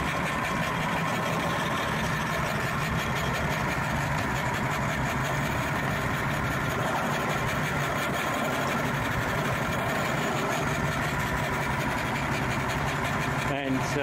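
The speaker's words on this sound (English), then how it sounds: "The start of the Yamaha. HPDI, 200 horsepower, two-stroke engines, half a click and started." Yamaha HPDI 200-horsepower two-stroke outboard engines on a 2000 Grady-White 265 Express boat idle steadily with a throbbing, rattly drone, holding even for the whole stretch, with a sharper knock near the end.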